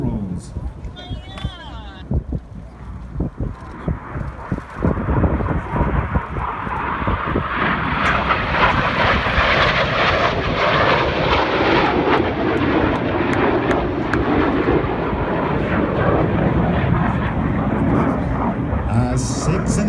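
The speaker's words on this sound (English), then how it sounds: "As 6 and 7 close for one last time at 700 miles an hour, they will roll twice towards each other in the imaginatively titled double rolls." Red Arrows jets roar past during a double-roll display at a New York air show, a loud sustained engine rush swelling after a few seconds and holding steady, with a commentator speaking over it.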